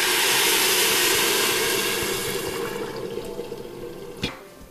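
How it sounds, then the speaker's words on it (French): Broth pouring onto rice in a Moulinex Cookeo multicooker pot for Portuguese duck rice, a loud rushing liquid stream that gradually tapers off, close by with no voices. "on verse le bouillon dans le riz."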